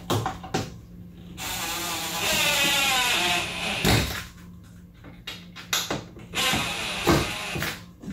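Phillips wood screws being driven into a wooden board on a screen printing press bracket, with bursts of whirring power-driver sound separated by short clicks, taps and pauses between screws, close by.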